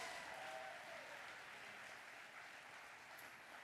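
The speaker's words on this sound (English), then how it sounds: "Give them a round of applause." An audience at a community safety summit claps for a youth group, a faint, even patter of applause heard from a distance and lasting the whole stretch.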